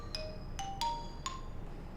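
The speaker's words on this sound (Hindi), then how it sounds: "तुम्हारा फोन बज रहा है।" Four short, bright electronic chirps ring out at irregular intervals over a faint low hum, like a phone's ringtone sounding quietly in a room.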